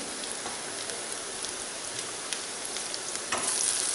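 Onions sautéing in a pan for crab tamarind curry, a steady even crackle like light rain, with faint stirring and a slight swell at the end.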